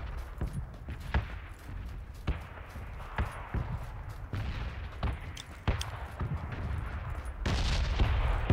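Bursts of UMP submachine gunfire in PUBG on Xbox One X crack out repeatedly, sharp rapid shots in short volleys with brief gaps, loud and close, ending in a denser sustained rattle.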